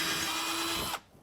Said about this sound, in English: then we'll get ready to drill a couple of holes in there